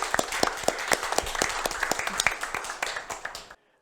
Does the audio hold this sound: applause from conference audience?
yes